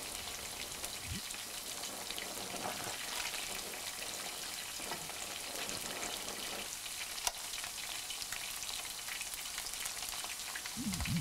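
King fish pieces frying in oil for a fish pickle, a steady, dense crackling sizzle that carries on throughout at moderate level, with a few soft knocks and stirs.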